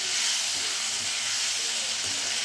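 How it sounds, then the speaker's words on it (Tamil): Tomatoes sauté in a hot pan with a steady, even sizzling hiss that holds unchanged throughout, close and moderately loud, with no talking. "தக்காளி நல்லா வதங்கட்டும்."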